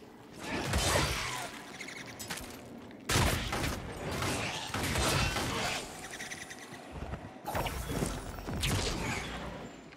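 Pistol gunfire from the action RPG Wolcen, heard as a dense, loud stream of sharp shots and clanking mechanical effects packed in bursts, with brief gaps between volleys and no voices.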